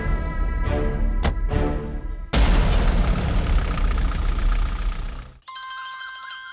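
A phone's electronic ringtone chimes clearly near the end, after a loud rumbling engine-like noise that cuts off abruptly.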